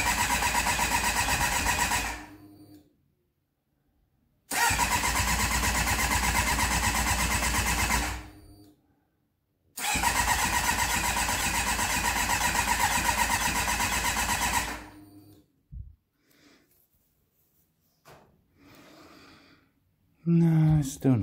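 An MV Agusta 750 F4 motorcycle engine cranks in three long starter bursts separated by silence without catching, followed by a few faint clicks and brief sounds.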